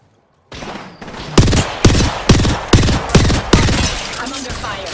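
Rapid gunfire in the battle royale shooter Apex Legends, loud bursts after a short silence with several heavy punchy shots repeating about every half second, layered with dense automatic fire.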